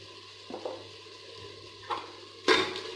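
Green chillies added to a pan of cooked tomatoes and stirred for vegetable pulao, with a few distinct scraping clatters of a spoon against the pan over a low steady sizzle, the last one loudest.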